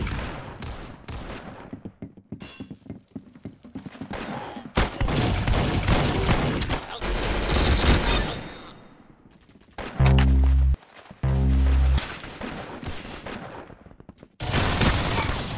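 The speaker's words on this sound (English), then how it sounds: "Bro, this gun sounds sick." Rapid bursts of gunfire from Roblox Arsenal crackle loud and close, a dense string of shots and automatic volleys broken by short pauses and a couple of heavy booming blasts.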